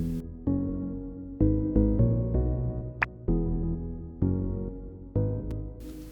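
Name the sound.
synth bass preset Castle with a filter applied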